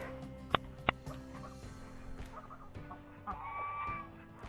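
Hens scratching and clucking in sand in an outdoor yard, with a couple of sharp close clucks early on, then softer scattered calls and rustling over a steady low background.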